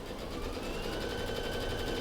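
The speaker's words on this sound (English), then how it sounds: "So she's gonna do that tack down stitch for me first." An embroidery machine sewing a tack-down stitch for appliqué: steady, fast mechanical needle chatter with a rhythmic whir, close and continuous throughout, no voices.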